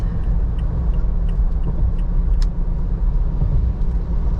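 A Toyota Fortuner Legender 4x2 cruising on a highway at around 1600 RPM, heard from inside as a steady, loud, low engine and road drone with no talking.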